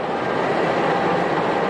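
Passenger train being shunted back to the depot, heard from inside a business-class carriage as a loud, steady rumbling roar with no distinct clanks.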